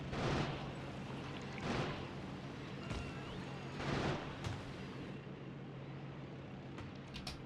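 Cannons firing in the factory game Factorio Space Age, heard as several heavy booming blasts spaced about two seconds apart over a steady low mechanical hum, with no talking.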